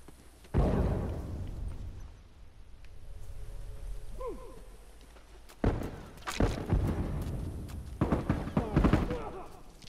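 A bomb goes off in The Last of Us gameplay with a loud, deep blast, followed by several heavy bursts and gunfire-like impacts as the fight continues, with sparse character speech between the hits.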